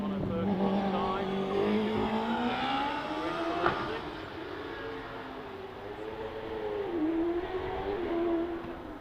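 DJ Firehawk racing car driven hard up the Loton Park hill climb, its engine note rising and falling steadily over a commentator talking throughout, with a brief sharp crack midway.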